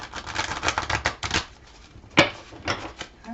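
Tarot cards being shuffled by hand give a run of quick, close riffling flutters followed by a sharper snap and a few softer shuffles.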